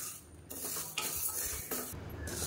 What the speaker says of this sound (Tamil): இப்போ இது வந்து வாசனை வரளவுக்கு வறுத்துக்கலாம்.